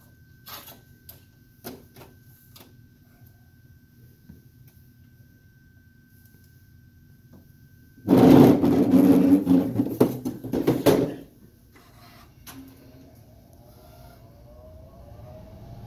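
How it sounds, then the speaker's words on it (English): An Epson inkjet printer prints a film positive for screen printing, giving about three seconds of loud, close mechanical whirring and clatter between quieter stretches of faint room noise. "we'll run a film positive here through the Epson printer"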